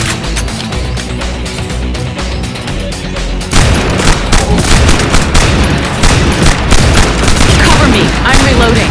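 Sustained gunfire in the video game Evolution: Battle For Utopia, rapid loud automatic shots and explosive booms that grow heavier midway, with game voices mixed into the din.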